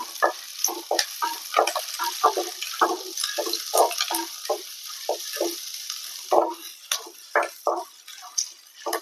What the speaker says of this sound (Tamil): அதை போட்டுக்கலாம் நல்லா எண்ணெயிலே வதக்கிக்கலாம்